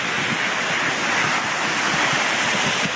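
Floodwater from a flash flood rushes down a creek in a steady, dense roar, a loud broadband wash of churning water that stays constant throughout with no voices over it.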